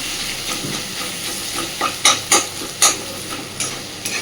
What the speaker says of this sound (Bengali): ডিমটাকে দিয়ে সুন্দর করে আরও মিনিট 5 চিচিঙ্গাটাকে এইভাবে ভাজতে থাকবো।